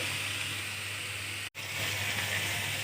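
Bitter gourd (karela) frying uncovered over low heat, a soft steady sizzle and hiss close by with a very brief dropout midway.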